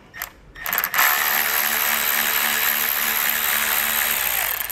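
Ratchet working T30 Torx bolts loose under a 2022 Jeep, a couple of quick clicks followed by a long steady whirring, close and fairly loud with no talking.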